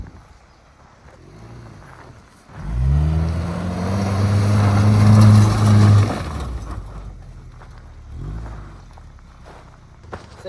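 All-wheel drive car revving hard during a donut attempt, engine surging loudly for a few seconds before dropping back to idle, with quieter rumbling before and after.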